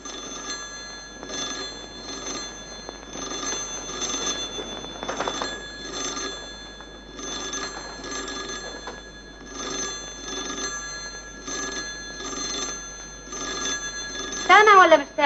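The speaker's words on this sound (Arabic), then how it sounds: "التليفون يا اطرش." An old telephone bell rings in repeated regular bursts with short gaps in a 1953 Egyptian black-and-white film scene, the ringing loud and clear, with voices speaking at points.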